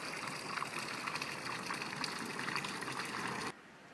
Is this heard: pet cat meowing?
no